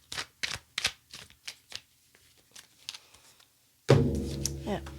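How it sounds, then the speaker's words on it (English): A deck of cards shuffled slowly and deliberately up close, a run of soft separate card slaps and riffles, then a louder, denser burst near the end that may be mixed with a voice. "By shuffling, I mean putting the cards all at a different place in the deck."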